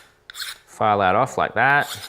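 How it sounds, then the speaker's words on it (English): A hand file rasps briefly at a drilled stone offcut in a few short scratchy strokes, followed by someone speaking close by over it. "So I'm just taking a file, I'm just going to file that"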